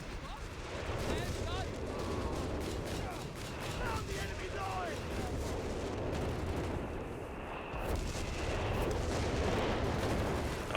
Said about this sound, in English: British base artillery is going to be firing.